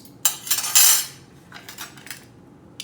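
Metal spoons and utensils clatter and clink against dishes in a kitchen, a loud burst of rattling followed by several lighter scattered clinks, with no talking.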